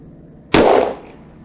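A Smith & Wesson 610 Classic revolver with a 6-inch barrel fires a single 10mm round into clear ballistics gel: one loud, sharp crack followed by a brief echoing tail, with quiet before it.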